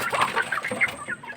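Shamo chickens cluck steadily nearby, short repeated calls overlapping in a busy coop with a faint rustle of wings.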